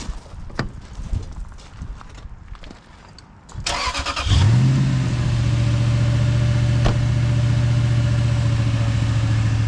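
After some clattering handling noise, a cold V8 engine in a Toyota Sequoia cranks and catches with a roar, then settles into a steady, loud, even idle.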